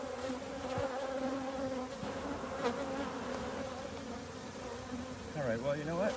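Honey bees swarm and buzz around an open hive, a steady dense drone of many wings filling the space, with a few louder bees passing close near the end.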